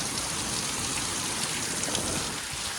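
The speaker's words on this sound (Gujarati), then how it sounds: "જોરદાર વરસાદ પડી રહ્યો છે." Heavy rain pours over farm fields in Dahod, a dense, unbroken rush of close drops at steady volume with no voices.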